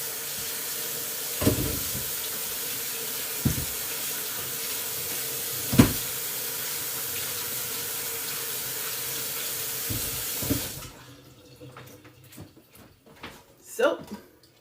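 Cucumbers rinsed under a running kitchen tap, a steady broadband water hiss for about eleven seconds with a few knocks, then the flow stops and quieter handling noises follow.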